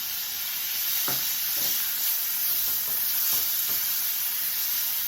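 Onions and peppers sizzle steadily in a pan with squeezed garlic, a constant frying hiss broken by a few soft scrapes of stirring, close and fairly loud, with no talk.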